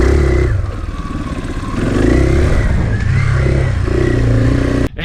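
A KTM 500 enduro motorcycle engine revs hard and close, its throttle surging and easing in a loud, raspy drone that holds for several seconds before a sharp clunk at the end.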